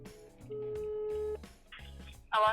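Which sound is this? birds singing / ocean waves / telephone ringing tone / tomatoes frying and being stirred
telephone ringing tone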